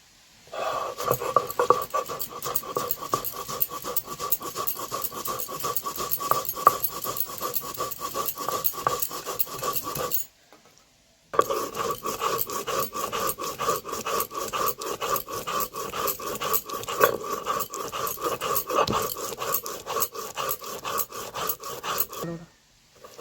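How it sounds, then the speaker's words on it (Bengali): Poppy seeds ground by hand on a shil pata grinding stone: a continuous, rhythmic back-and-forth rasping scrape, loud and close, with one brief pause around the middle before the grinding resumes. "তো চলো এখন পোস্তটা বেটে নিই"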